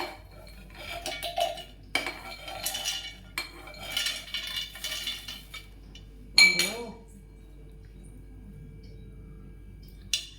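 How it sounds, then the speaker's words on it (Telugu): Roasted ingredients are tipped into a mixer jar in close, irregular bursts of clinking and rattling against metal and glass, then the sound drops to near silence. "ఇప్పుడు ఒక మిక్సీ జార్ తీసుకొని వీటన్నిటిని ఇందులో వేసుకోవాలి"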